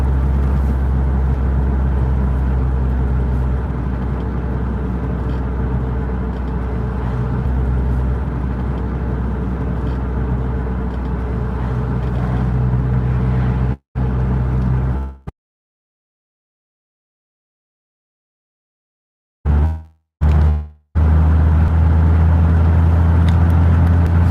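Steady car engine and road rumble from a car driving along on a sunny day, heard from inside, loud and continuous, with a brief dropout to silence midway before the drive resumes.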